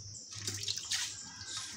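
A tap runs while dishes are washed, a soft hissing splash of water with a few brief surges, fairly faint and close.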